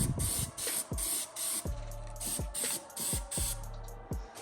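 Repeated short bursts of weld-through primer sprayed from an aerosol can in a car engine bay, hissing in quick pulses with a faint rattle between them.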